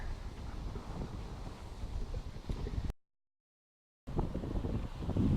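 Gusty wind buffets the microphone at a marsh field edge with low rumbling roar, cutting out briefly to silence before the blustering resumes.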